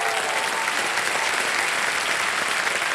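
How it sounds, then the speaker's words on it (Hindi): On the set of the quiz show Kaun Banega Crorepati, the studio audience keeps up a steady, even round of applause for a contestant, a continuous crowd clapping at moderate level with no speech over it. "ताली बज जाए आपके लिए, इन्होंने बजा दिया।"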